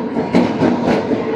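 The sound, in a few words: Rayalaseema Superfast Express train arriving with WAP-7 locomotive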